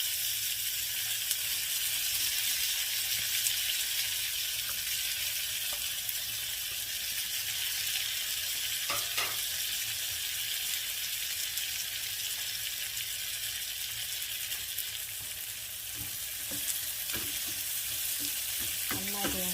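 Shallots, curry leaves and dried red chillies frying in hot oil with popping mustard seeds for a Kerala roasted-coconut sambar. A steady, close, loud sizzle runs throughout, with a few brief crackles and stirring scrapes and no talking.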